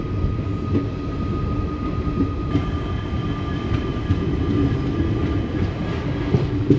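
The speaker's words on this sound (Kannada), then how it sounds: "ಈಗ ಬಿರೂರು ಜಂಕ್ಷನಿಂದ ಡಿವಿಯೇಟ್ ಆಗಿ ನಮ್ಮ ಟ್ರೈನ್ ಹೋಗುತ್ತೆ ತರೀಕೆರೆ ಶಿವಮೊಗ್ಗ ಟೌನ್ ಮೇಲೆ ತಾಳಗುಪ್ಪಗೆ" Mysuru–Talaguppa Intercity Express rolling between Birur Junction and Shivamogga, heard as a steady loud rumble of coaches on rails with faint rhythmic wheel clacks and a thin whine, no voices.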